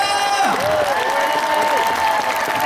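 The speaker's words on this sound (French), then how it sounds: "On applaudit Philippe." Audience applauding Philippe at the inauguration of the Rochefort ice rink: steady, dense clapping throughout, with tonal whistle-like sounds or music sweeping over it and some voices mixed in.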